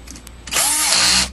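A power tool whirs for about a second in one short, loud burst as it tightens a bolt on a GM CS144 alternator during a rebuild, close up with no talking.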